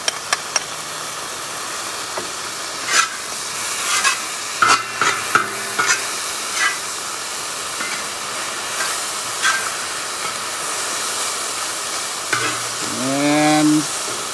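Moo goo gai pan stir-fried in a ripping hot cowboy wok, with steady close sizzling and hissing throughout, scattered clanks and scrapes of stirring, and a rising squeal or whine near the end.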